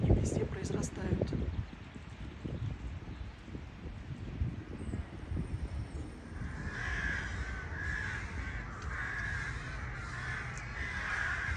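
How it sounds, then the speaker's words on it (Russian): Many crows caw among tall pines in a small town by Lake Balaton, Hungary, their harsh calls repeating from nearby and farther off, with voices and rustling at the start before the cawing grows steady. "Высокие сосны и очень много ворон."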